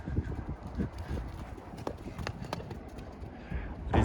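A young foal frisking about outdoors, its hooves clip-clopping in quick, uneven bursts at moderate distance, with some background noise and a thump near the end.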